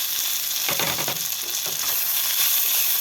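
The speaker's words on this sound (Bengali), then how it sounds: "এবার আমি সব মশলাগুলোকে ভালো করে আমি কষিয়ে নেব" Garlic, green chili, tomato and spices fry in a pan for a fish cutlet filling, giving a loud, steady sizzle with a few stirring scrapes near the start, heard up close and without speech.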